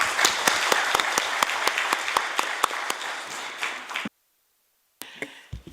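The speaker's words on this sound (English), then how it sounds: "I want a big applause for them." Audience applause for conference presenters at the close of a big data and sustainable development session, a steady burst of sharp, close claps for about four seconds that ends abruptly, followed by silence and a few faint sounds.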